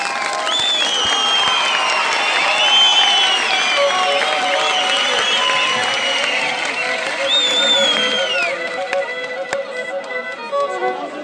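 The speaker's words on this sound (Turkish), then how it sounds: "12 tane askere şuradaki 2000 kişi, 3000 kişi bir alkış alabilir miyim?" A large outdoor crowd of a few thousand at a village soldier festival claps steadily, with scattered whistles and cheers riding over the sustained applause throughout.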